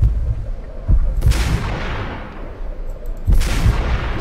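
Sniper rifle shots in the video game Max Payne, with two loud booming reports about two seconds apart, each trailing off in a long echoing decay, with rumbling in between.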